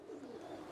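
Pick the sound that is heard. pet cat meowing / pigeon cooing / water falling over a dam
pigeon cooing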